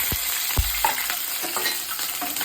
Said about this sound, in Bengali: কাঁচা লঙ্কা কালো জিরেটা ভালো করে ফ্রাই করতে হবে